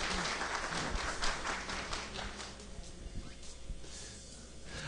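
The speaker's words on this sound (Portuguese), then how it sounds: "Palmas para o MacGyver aqui." Scattered audience clapping at a talk on music production with free software, briefly busy at first, then thinning and fading into quieter room noise after a couple of seconds; no one speaks over it.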